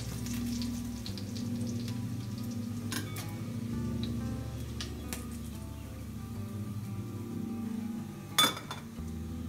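Chicken frying in oil in a covered pan gives a steady low sizzle throughout, with a few sharp metallic clinks, including one louder clink near the end.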